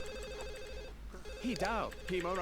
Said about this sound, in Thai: โทรศัพท์บ้านใครวะ